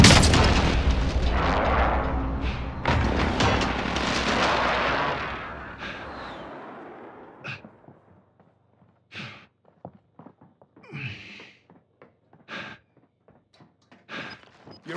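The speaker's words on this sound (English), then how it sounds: "Enemy precision airstrike." Enemy precision airstrike in a battle royale shooter: a dense, loud barrage of booming blasts for several seconds, then scattered sharper pops and thuds trailing off into near quiet.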